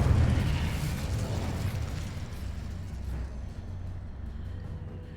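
Incendio fire spell cast in Hogwarts Legacy, a loud fiery burst at the start that rumbles and slowly fades into a low roar over several seconds.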